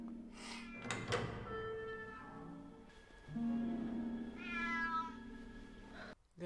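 A cat in the 2001 film Harry Potter and the Sorcerer's Stone lets out several drawn-out, wavering meows in a row. They sound close and clear against quiet film background, with no talking.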